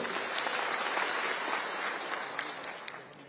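Audience at a government ration-shop event in Tripura clapping, a dense steady wash of many hands that fades slightly toward the end, with no talking over it.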